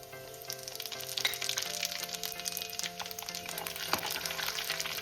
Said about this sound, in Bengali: এরপরে আমি দেব পাঁচ ফোড়ন ফোড়নের জন্য দেব পাঁচ ফোড়ন